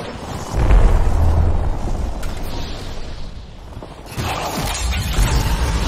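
A frag grenade goes off in an Apex Legends match, a booming blast followed by rumbling, crackling debris and game noise, then a second surge of chaotic combat sound.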